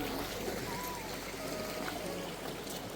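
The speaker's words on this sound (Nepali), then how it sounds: "पानी परिरहेको" Water falls in a continuous, even rush near Lo Manthang in Mustang. It is a steady broadband wash with no breaks, heard at a moderate distance and fairly loud, with no talking.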